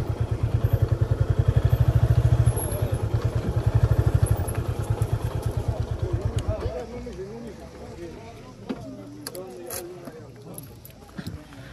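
A motorcycle engine thrums with a rapid, regular pulse, loud and near at first, then cuts out and falls to quiet, leaving scattered clatter and knocks, with a voice talking over it.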